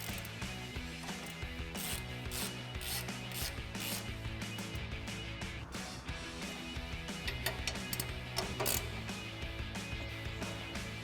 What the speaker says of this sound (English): now we're gonna reinstall our caliper bracket with our two 21mm bolts that we took off